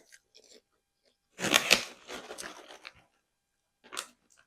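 Sweet popcorn crunches loudly up close, a burst of crisp bites and chewing, a pause, then another short crunch, with near silence between.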